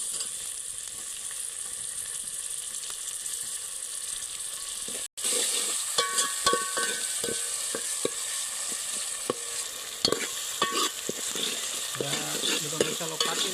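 Masala and tomatoes frying in oil for a village-style vadi nu shaak, a steady close sizzle with intermittent clinks and scrapes of stirring, broken by a brief cut partway through.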